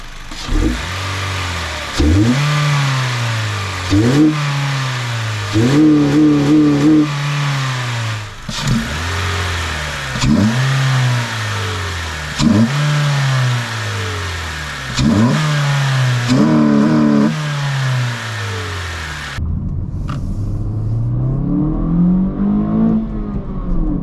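A 2022 Honda Civic 2.0 fitted with a PRL high-volume intake accelerates from a stop uphill, engine rising sharply in pitch and dropping at each of several upshifts, loud and close, before settling to a quieter drone.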